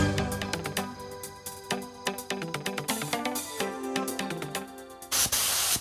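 A spray gun lays down a wood finish, likely thinned varnish or polyurethane, in a close, steady hiss broken into short repeated bursts, with one longer, louder spray at the end.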